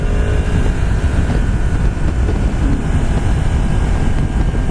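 Motorcycle riding with steady loud engine drone and wind rush, the rider shifting up through the gears with no clear breaks in the continuous noise.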